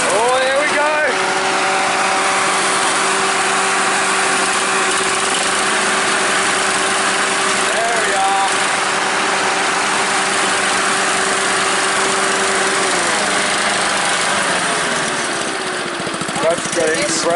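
A Kubota engine, running alongside a Honda and a BR600 leaf blower, settles into a steady, loud mid-pitched drone after a rough start, holding an even hum with a shift near the end while people talk over it.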